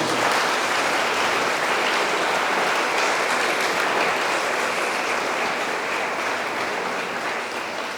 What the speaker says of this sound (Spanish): me queda un fuerte aplauso a los jóvenes